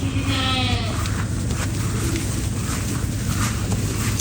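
A goat on a goat farm gives a wavering bleat near the start, loud and close, over heavy wind rumble and a steady low background noise.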